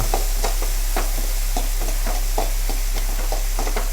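Onions frying in hot ghee for egg sukka, a steady dense sizzle close up with regular scraping stirs punctuating it about twice a second throughout.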